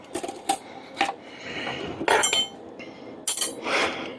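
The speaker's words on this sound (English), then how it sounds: "Let's go ahead and butter them up." A table knife spreads Land O'Lakes butter onto gluten-free waffles on a plate, making close clinks and taps of metal on the dish between short scraping strokes. No one speaks.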